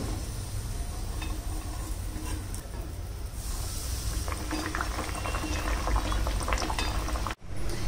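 Gurvalya, a traditional Marathi sweet, fry in a little hot oil with a steady close bubbling sizzle, brief crackles rising partway through, then a short break near the end.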